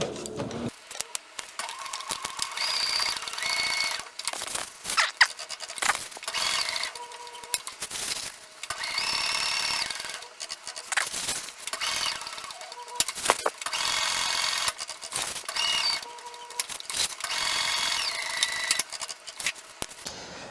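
A sewing machine works through heavy ballistic nylon on a tote bag in short, repeated bursts of rapid stitching. The bursts are close and buzzy, separated by brief pauses and clicks as the machine back stitches.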